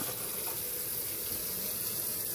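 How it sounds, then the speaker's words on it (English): Water runs steadily from a newly installed kitchen faucet, a constant close hiss with no pauses and no talking. "I just turned it on a little bit, and it squirted out a little bit of water"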